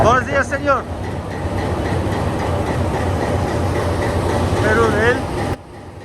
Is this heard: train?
yes